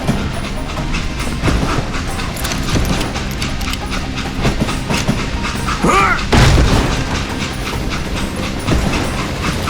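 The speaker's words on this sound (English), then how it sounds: "It was then that Jesse detached the express car from the rest of the damn train" A train in the video game Call of Juarez Gunslinger rolls along loud and close with rhythmic clickety-clack, then a heavy metallic boom and clank as the express car is detached, with gunfire-like thumps around it.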